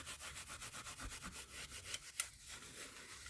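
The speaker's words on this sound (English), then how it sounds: "So we use a fine brass brush here" A fine brass brush scrubs an antique cast iron door lock in quick, even back-and-forth strokes, a close, soft rhythmic rasping with a small metallic tick near the end.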